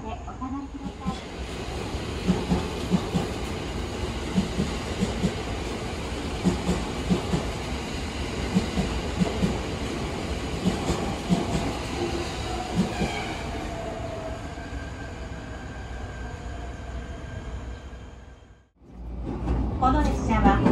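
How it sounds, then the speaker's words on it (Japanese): A local train bound for Nagaoka rumbles into a Japanese station at platform 2 with continuous clattering and rolling noise, a platform announcement voice running over it, then a brief lull near the end. "2番線に列車が参ります。"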